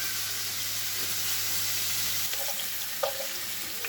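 Merguez sausages fry in a pan for couscous royal, giving a steady, fairly quiet sizzling hiss broken by a few small pops and crackles.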